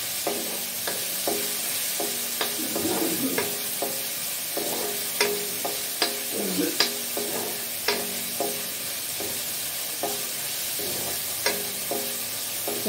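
Tomatoes sizzling in a hot pan, a steady close frying hiss broken by repeated sharp clinks and scrapes of a utensil stirring, with no voices.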